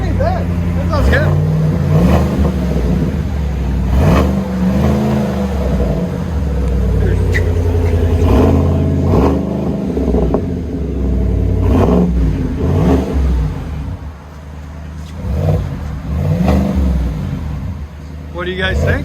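A 2022 Chevy Silverado RST with a 5.3L V8 and Solo Performance cat-back exhaust revs repeatedly, its deep rumbling exhaust rising and falling, with people talking over and between the revs.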